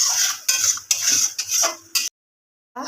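A spoon stirs and scrapes masala with Kashmiri chili powder in a pan, several quick rhythmic metallic scrapes and clinks close up, stopping briefly before one last stir.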